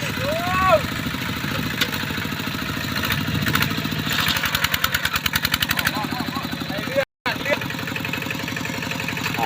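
A heavy tractor engine runs steadily at a low, chugging idle throughout, with some rhythmic knocking in the middle and a brief dropout near the end.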